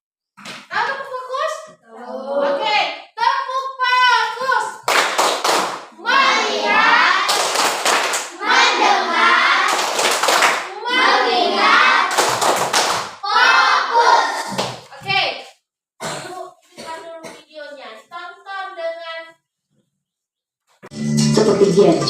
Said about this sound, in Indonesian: Ayo, tepuk fokus dulu kita.